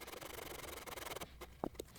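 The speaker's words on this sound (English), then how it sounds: "So this sanding is going to take a while." Rhythmic back-and-forth scraping of sandpaper on wood, close and steady, then stopping, followed by a couple of light knocks.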